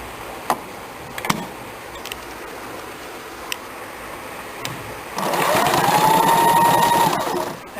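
A home-tailoring sewing machine stitches a kurti: a few faint clicks and taps, then the motor starts up into a steady whirring run of stitching for the last couple of seconds.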